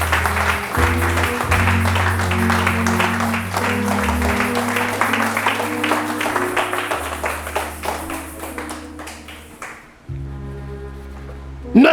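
A church congregation claps in steady rhythm over sustained keyboard chords, the applause fading before a brief pause and a resumed chord.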